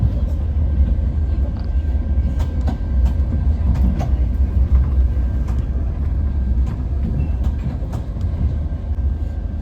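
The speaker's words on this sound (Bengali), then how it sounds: "মহাসাগরের পাশ দিয়ে আমাদের ট্রেন যাচ্ছে।" A Sri Lankan train on the Galle to Colombo line runs beside the ocean, with a continuous heavy rumble and faint rhythmic clicks from the carriage throughout.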